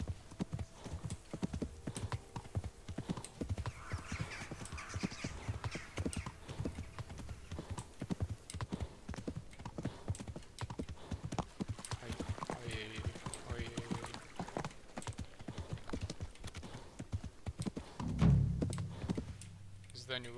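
In a video game, a horse's hooves clip-clop in a steady, fast, continuous rhythm, close and dry, with brief rustling and a low thump near the end.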